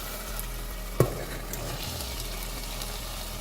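Chickpeas frying with spices in a pan for Lahori kali mirch chanay, a steady close sizzle with one sharp clack of a utensil near the start, no talk.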